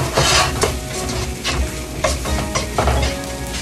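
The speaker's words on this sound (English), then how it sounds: "I'm going to just quick stir the egg around." Egg and meat stirred quickly in a hot pan for shrimp fried rice, a dense continuous sizzle under scraping utensil strokes and light clinks against the pan, close and loud, no talking.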